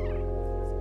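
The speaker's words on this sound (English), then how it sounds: "Meow to attract" A single short cat meow from the video game Stray, clear and close, sounding over a steady low game-music or ambience bed.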